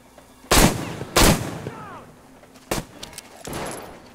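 Gunfire in the video game Metro Exodus: four sharp, loud shots spaced irregularly over a few seconds, with short gaps of quiet between them.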